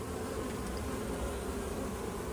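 Honey bees droning steadily around a hive holding about one and a half frames of bees, a continuous close buzzing with no talk.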